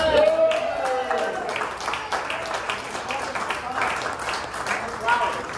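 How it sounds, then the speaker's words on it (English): Scattered, modest applause from a small audience at an art gallery opening with an improvised music ensemble, the claps fairly close and uneven, with voices talking over them. "applaud, a hand for the artist"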